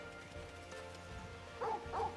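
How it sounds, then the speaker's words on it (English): A dog named Torgo in the video game Final Fantasy XVI gives two short, faint barks near the end over quiet game background sound. "Why are you barking?"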